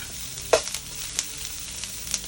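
Onions fry in a pan for a masala fish dish, with a soft, steady sizzle under a few sharp scrapes and clinks as a utensil stirs them. The sounds are close and there is no talking.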